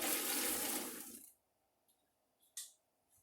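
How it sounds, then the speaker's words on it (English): A burst of rushing, splashing water as cut celery goes into a pot of boiling water in a home kitchen for blanching, loud and dense for about a second before cutting off, followed by near silence and a brief clatter. "I'm going to put my celery that's cut into the boiling water for 3 minutes and blanch"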